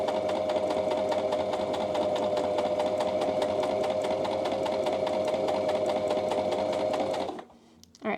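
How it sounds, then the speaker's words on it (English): A sewing machine runs steadily while stitching a welt pocket on a pair of pants. Its rapid, even mechanical whir lasts about seven seconds, then stops abruptly. "You're just going to sew on top of it."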